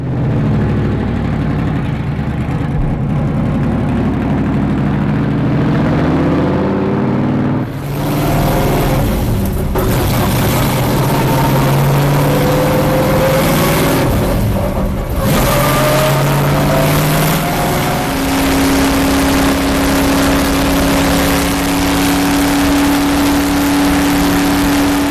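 Racing car engines at a NASCAR track drone and rise in pitch as cars accelerate, loud and continuous with overlapping revving throughout, and no talking.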